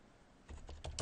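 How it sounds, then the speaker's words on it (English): Brief burst of typing on a computer keyboard, a few quick close key clicks growing louder toward the end, with no talking. "you can do Control F on your keyboard and type in"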